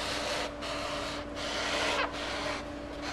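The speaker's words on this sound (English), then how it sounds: "She cuts it all the way through, right to the bottom" A sharp fish filleting knife saws through a roll of paper towels, a steady soft rasping cut near and fairly quiet, broken by three short pauses between strokes.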